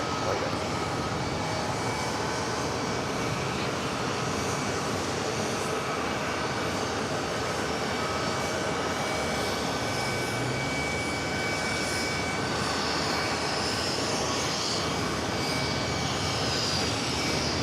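An SAS Airbus A321neo bound for Oslo, Norway, rolls down runway 22 right at New York JFK, its jet engines making a steady, loud broadband roar throughout with a voice talking over it.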